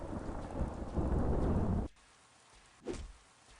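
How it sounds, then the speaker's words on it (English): Rain falling in Los Angeles, a dense roaring wash of drops that cuts off abruptly, leaving a faint hiss before a shorter burst of rain returns. "Getting some rain here in LA."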